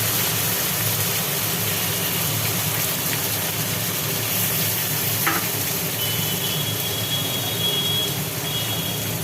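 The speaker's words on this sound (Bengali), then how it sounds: "মাখানোর সোয়াবিনটাকে তেলের মধ্যে দিয়ে দিল" Marinated soybean chunks fry in hot oil with a dense, steady crackling sizzle that carries on without a break, fairly loud and close, with no voices.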